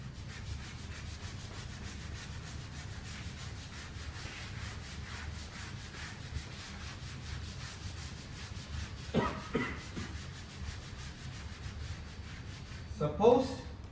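Writing is rubbed off a board with a steady, soft, continuous scrubbing under faint room noise, followed by a few louder knocks and bumps toward the end.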